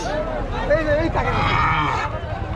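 A cow moos in a low, drawn-out call amid the bustle of a cattle market in Rajshahi, Bangladesh, with people talking in the background.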